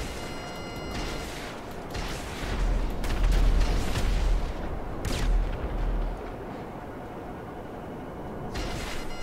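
Gunfire from the Mark II in GTA Online: a dense run of loud, booming shots with heavy low rumble, peaking mid-clip and then easing, followed by a further sharp report near the end.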